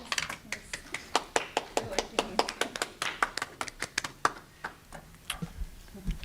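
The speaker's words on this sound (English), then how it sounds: "Can we applause?" Scattered applause from a small group of meeting attendees at a Middletown school board business meeting, sparse individual claps at an uneven pace, moderately near, with faint room murmur underneath.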